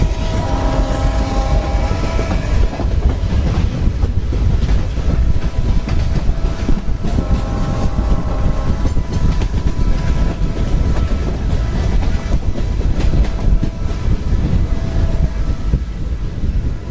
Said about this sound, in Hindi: तो दोस्तों अब अपनी रानीखेत स्पेशल फलौदी जंक्शन पर पहुंच गई है।